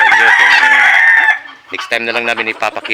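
A backyard bantam or native chicken lets out one loud, close crow, then clucks and squawks in short, choppy bursts.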